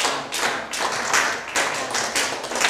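A seminar group claps the rhythmic eleven-beat pattern together, producing sharp bursts of clustered claps in short groups and pauses, in unison and fairly close.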